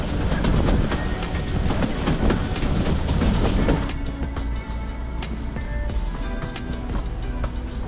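Local train running from Waghai to Bilimora, a steady loud rumble and rattle of the carriage in motion that drops to a lower, quieter roll partway through, with no voices.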